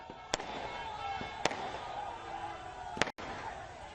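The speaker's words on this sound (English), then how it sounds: "you can see massive firecrackers are here" Sharp firework bangs and firecrackers burst at intervals over a constant crackling, hissing wash of distant explosions, with faint crowd murmur in the background, during street celebrations in Guwahati, India, after a T20 World Cup win.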